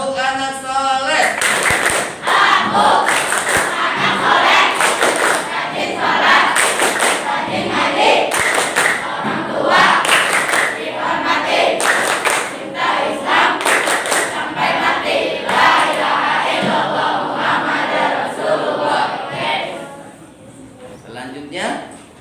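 Children chant "tepuk anak soleh" in a classroom, loud rhythmic group clapping and shouted voices filling about twenty seconds before tapering off near the end.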